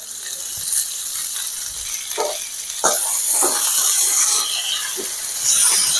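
Curry leaf sprigs sizzle and crackle in hot oil in a village kitchen while tindora and onion cook, a steady hiss with scattered sharp pops and a louder surge partway through.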